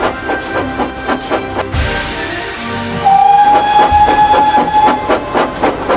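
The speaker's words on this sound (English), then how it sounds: "the fat director purchased another engine called Henry" A steam locomotive chuffs in a steady rhythmic beat with hissing, then sounds a loud sustained whistle near the midpoint, close and prominent.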